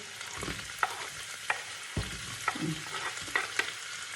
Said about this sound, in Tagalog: Tapos gisahin ko na lang siya sa butter.